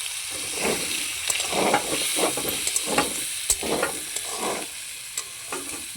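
Potatoes with chopped tomato and chili powder sizzling and frying in a pan, with a steady hiss and repeated scraping strokes of a spatula stirring close up.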